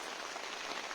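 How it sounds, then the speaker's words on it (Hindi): Heavy rain pours down during a market outing, a dense, steady hiss of drops striking surfaces that fills the whole moment without a break. "आज बारिश बहुत हो रही है"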